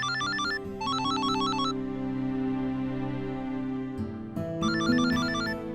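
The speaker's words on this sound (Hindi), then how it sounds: "नाइमा खाला का फोन।" A telephone rings with a repeating electronic ringtone in a domestic scene, bursts of trilling notes over a steady musical background, pausing and then starting again.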